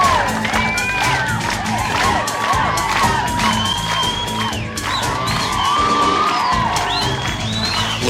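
A large crowd cheers and whoops continuously, with shouts and children's voices rising over a dense roar and scattered applause.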